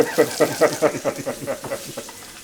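Meat searing in a hot pan gives a rapid pulsing sizzle with about a dozen regular bursts, close and fairly loud, with a voice partly mixed in.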